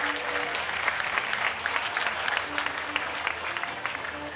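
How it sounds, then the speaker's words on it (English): Crowd applause for fencer Joseph Chung at a modern pentathlon World Cup in Sarasota-Bradenton, USA: steady, dense clapping from a large audience sustained throughout, with a faint voice underneath. "Please give a big round of applause for Joseph Chung."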